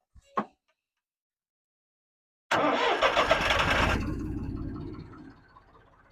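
Diesel tractor started in cold winter weather: a click, a pause, then the engine catches with a loud, clattering roar that settles after a second into a quieter, steady idle.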